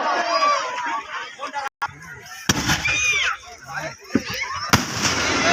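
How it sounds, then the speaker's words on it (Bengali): Fireworks crack and pop in sharp bursts at an outdoor display on a field while someone talks loudly over them and a crowd murmurs in the background. "দেখতে পাচ্ছেন আকর্ষণীয় আতশবাজি প্রদর্শনীয়"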